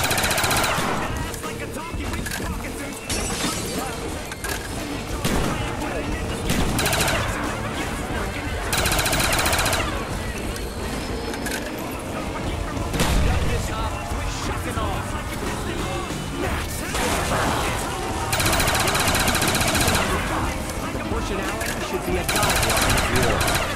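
Dense automatic machine-gun fire from Call of Duty Black Ops zombies chaos mode, loud and nearly continuous for over twenty seconds, mixed with game effects and voices talking throughout.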